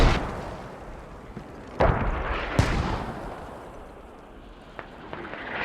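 Mortar and artillery fire in a squad-based tactical shooter match, with several heavy booming impacts spaced irregularly over a steady rumbling battlefield background, a couple of sharp louder blasts standing out.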